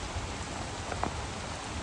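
Heavy rain pouring down beside a stream in the countryside, a dense, continuous close-up hiss of falling water with no voices.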